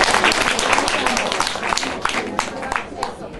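An audience at a Korean alumni general assembly applauds in welcome, a steady wash of clapping from many hands that stays fairly even and close throughout, with some speech mixed in.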